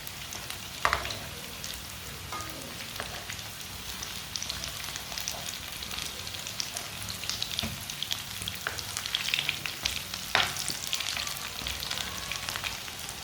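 Mixed kebab patties (tikki) frying in a pan until browned on both sides, a continuous close sizzle with bubbling crackle and occasional soft pops and scrapes throughout.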